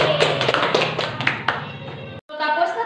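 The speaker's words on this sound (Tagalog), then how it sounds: "bigyan natin na palakpak ang ating sarili" Students in a classroom clapping for themselves during a teaching demonstration, with quick, uneven hand claps close by; a short break in the sound is followed by scattered cheering.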